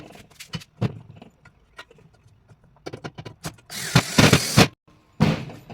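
A power driver sinks 3/4 inch self-tapping screws into the flat bar of a grill deck, giving a harsh, loud buzzing burst followed by a shorter one, after a run of clicks and clunks from handling parts.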